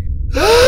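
A single sharp, close vocal gasp in an audio drama, a sudden intake of breath rising into a brief startled voiced sound.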